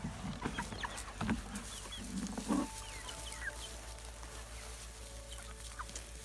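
Chickens cluck and call softly as they settle into a new coop on a farm, scattered bursts with a few louder squawks early on over a steady low background hum.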